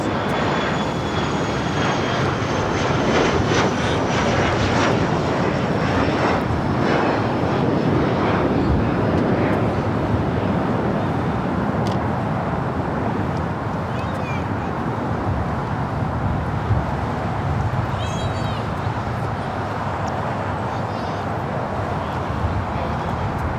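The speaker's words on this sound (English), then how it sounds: "This is Asiana Airlines 201 taking off to Seoul on the A380" Asiana Airlines Airbus A380 departing runway 24 left at Los Angeles, a powerful sustained four-engine jet roar that swells early and then slowly eases as it climbs away, with a whining engine tone fading off and faint voices beneath.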